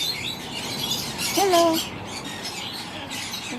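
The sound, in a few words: many birds chirping in a garden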